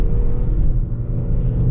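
A 2026 Range Rover Evoque with a 4-cylinder turbo engine accelerates, heard from inside as a loud, steady low rumble and engine drone throughout the brief moment.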